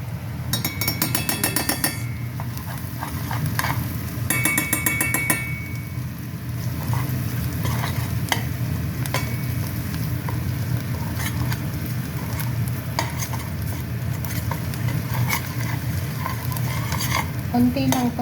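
Squid frying in a pan with Korean spicy paste gives a continuous sizzle under repeated scraping and stirring of a utensil against the pan, with bursts of rattly clatter early on and occasional clinks.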